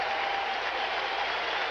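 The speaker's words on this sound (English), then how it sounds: "Crowd's giving Milt Thompson a hand." A baseball crowd in St. Louis applauds Milt Thompson's line-drive home run, a steady, dense wash of clapping and crowd noise that fills the whole short moment at a distance, with no voices standing out.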